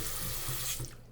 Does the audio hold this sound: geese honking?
no